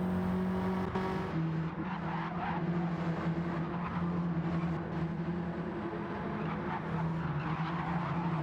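GTO race cars battle around the Brands Hatch circuit, their engines holding a loud, steady drone that rises and falls slightly as the cars pass, with no voices over it.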